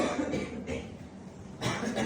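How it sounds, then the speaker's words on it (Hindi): A few short, rough coughs close to the mic, spaced irregularly with brief pauses between them. "खांसी बहुत आ रही है,"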